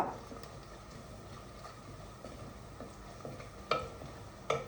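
Onions fry in a pan with a soft, steady sizzle, punctuated by faint scraping and a few sharper clinks of a stirring utensil.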